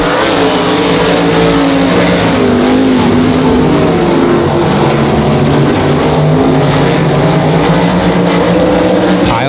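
Race cars roaring down the front straightaway off turn four at Monarch Motor Speedway, a loud, sustained engine howl with shifting pitch as the pack passes.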